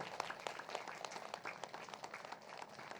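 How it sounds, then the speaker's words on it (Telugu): Audience clapping at a gathering, dense overlapping claps heard at a distance and fairly faint, continuing steadily without talk. "గట్టిగా చప్పట్లు కొడదాం"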